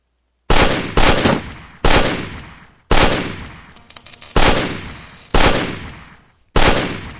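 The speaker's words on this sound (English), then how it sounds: "Let's shoot these down." Gunfire in Space Station 13: about seven loud separate bursts of shots, each a sharp crack followed by a decaying tail, spaced roughly a second apart with short silences between.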